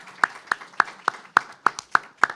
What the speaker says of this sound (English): Let's give a round of applause to our senator.